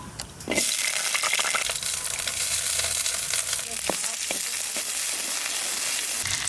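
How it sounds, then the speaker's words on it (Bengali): Potatoes hit hot mustard oil in a pan, bursting into a loud, steady sizzle after a brief quieter start, with occasional sharp pops and spatters up close. "একটু ভাজা করে নেব।"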